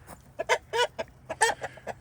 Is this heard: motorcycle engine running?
no